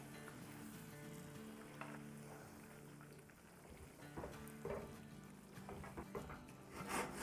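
Mutton karahi with slit green chillies sizzles and frys steadily in a pan, a quiet, continuous crackle with occasional scraping stirs and no talking.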